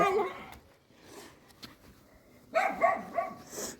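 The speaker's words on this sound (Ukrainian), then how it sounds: "хорошая собака, хорошая" Outdoors, a dog lets out a few close barks with soft whimpering between them, a short burst at the start and another near the end, while a person speaks quietly.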